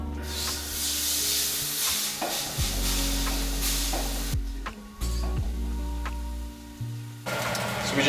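Steak sears in a pan under small weights with a steady broadband sizzle, broken by several knocks and scrapes as the weights and pan shift, close and fairly loud throughout.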